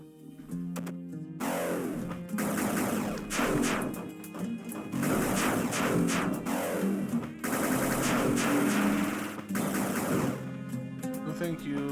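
Gunfire in the side-scrolling game Axiom Verge 2: rapid bursts of electronic shots and impacts in repeated volleys, loud and close over game music, with stretches of sustained firing separated by brief pauses.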